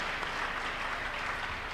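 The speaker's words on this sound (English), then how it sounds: "Shall we clap unto God and appreciate him?" Congregation applauding during a Tuesday church miracle service, a dense, steady wash of many hands clapping together for the whole stretch, with no voices rising above it.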